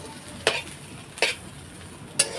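Potato and ash gourd peel being stir-fried in a pan: three sharp scraping stirs, evenly spaced, rise over a faint, continuous sizzle of frying, close and fairly quiet.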